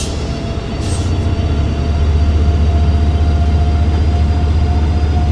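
Steady low diesel drone of an EMD F125 locomotive's 20-cylinder engine in Train Sim World 5, loud and continuous as it builds speed, with a brief hiss of compressed air near the start.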